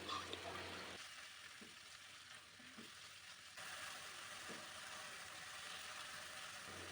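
Chopped chicken pieces seasoned with salt and black pepper fry in a pan for restaurant-style fried rice, giving a soft, steady sizzle with a few faint scrapes of stirring.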